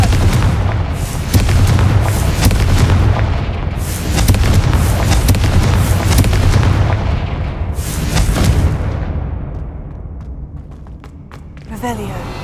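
Confringo blasting-curse explosions in the video game Hogwarts Legacy: heavy booms follow one another in quick succession, rolling and overlapping, then thin out to a fading rumble with a few crackles near the end, with a voice present over them.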